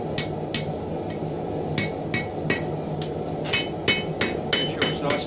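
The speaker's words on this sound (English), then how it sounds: "Using the horn of your hammer, it's a good way to get the bend." A hammer strikes a horseshoe on an anvil to bend and flatten it, about a dozen sharp ringing metallic blows, close and loud, coming faster toward the end.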